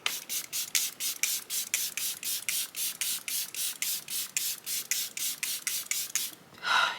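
Fenty Beauty setting mist sprayed in a rapid run of about twenty short, even pumps, close and crisp, with a breathy pause near the end.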